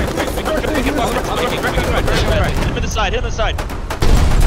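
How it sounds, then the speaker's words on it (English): Gunfire in the Foxhole video game, rapid repeated shots rattling in a steady stream under excited voices talking, with a heavy thump at the close. "Keep firing the gun."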